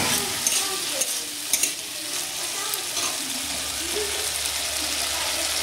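Cumin paste and spices sizzle and fry in a pan with a constant dense hiss, joined by occasional light scraping clicks of stirring.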